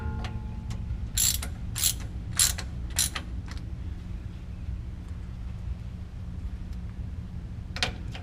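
Ratchet wrench clicking in short bursts as a Ford F-150 rear differential cover's bolts are snugged in a crisscross pattern, a few quick clicks near the start, another burst near the end, over steady low hum.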